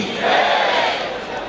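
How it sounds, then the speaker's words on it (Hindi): A large crowd at a Jain gathering cheers and calls out together in a sustained, loud roar, with a chanted slogan blending into broad crowd noise throughout. "एक बार पुनः ताली गड़गड़ाहट के साथ बोले, अहिंसा परमो धर्म की"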